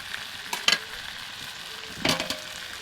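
Fried potatoes added to mutton curry in a pan: a soft sizzle with two brief bursts of scraping and stirring, close by and fairly quiet, with no talk.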